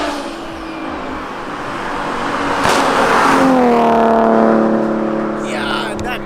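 Big turbocharged BMW approaching and roaring past on a road, engine noise swelling to a loud peak with rising revs as it passes close, then fading away, with people talking nearby.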